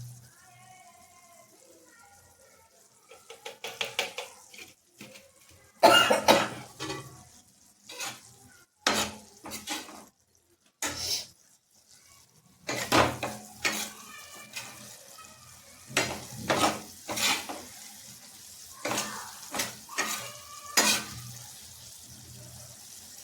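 Dried fish fry is stirred in a pan, with irregular bursts of scraping and clattering spoon strokes over a low sizzle, loud and close, with pauses between.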